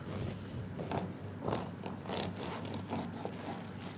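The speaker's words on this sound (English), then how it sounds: "I'm going to cut it with my knife." A knife saws through a crusty, long-baked pain de campagne loaf, giving repeated crunchy, crackling scrapes in an uneven rhythm, close and fairly quiet with no talking.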